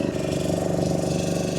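A boat's motor drones steadily and loudly throughout a river boat safari near Bagda, West Bengal, a continuous close engine hum with no breaks.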